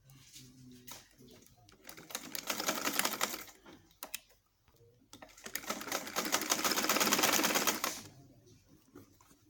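Sewing machine stitching fabric pleats, two bursts of rapid rattling stitching with quiet pauses between, close and fairly soft.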